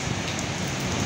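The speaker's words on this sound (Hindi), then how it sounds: "साइक्लोन, माय गॉड क्या बारिश हो रही है।" Heavy rain pours steadily during a fierce storm with hail in Delhi, a dense, loud, unbroken hiss close by with no voices.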